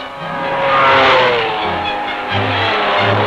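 Race cars at the 1953 Le Mans 24-hour race, a Jaguar lapping a Cunningham, their loud engines droning close by with a note that swells and changes pitch as they pass.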